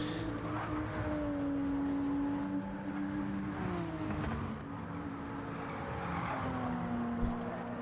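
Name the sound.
Nissan Z race car driving on track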